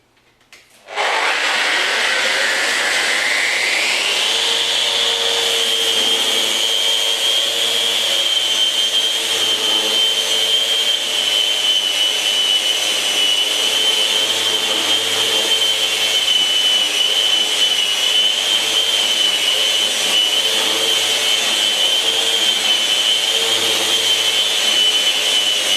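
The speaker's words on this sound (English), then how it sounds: "I'm going to start the sanding using the gear driven mode," A Festool RO 150 FEQ eccentric sander in gear-driven mode starts up and whines steadily at high speed, its pitch climbing briefly then holding a loud, continuous grinding hum on a surface.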